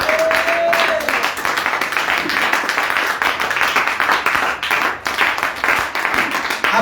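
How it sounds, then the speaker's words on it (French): A church congregation applauding Jesus during a Sunday service: loud, dense, continuous clapping from many hands filling the room without pause, with voices faintly mixed in. "Acclamons le Seigneur Jésus."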